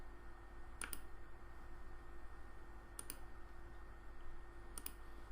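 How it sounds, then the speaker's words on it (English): Three crisp, faint computer mouse clicks, each a quick double tick, spaced a couple of seconds apart over a low steady background hum. "hover over the lock till it's gold, click once, and repeat this 4 times"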